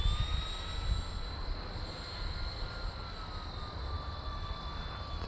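A small radio-controlled E-flite EC-1500 model airplane engine whines steadily at a distance, its high pitch drifting slightly, over outdoor wind noise.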